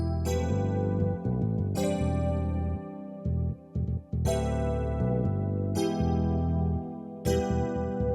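Electric piano chords with a deep bass line in an FL Studio R&B beat, bright stabs recurring every couple of seconds with short bass notes between, clean and fairly loud with no voices.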